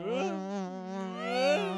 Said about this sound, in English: It's a fly.